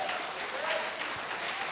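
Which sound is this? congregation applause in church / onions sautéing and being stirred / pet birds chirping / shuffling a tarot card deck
congregation applause in church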